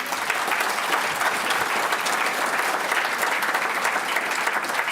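A round of applause for Marco from an audience at a community gathering in Auckland, dense and steady throughout, loud and close with no voices over it.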